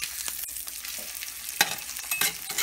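Food fries in butter in a cast iron skillet, giving a dense, crackling sizzle close up, with a couple of sharper spatula scrapes and taps against the pan and no voices.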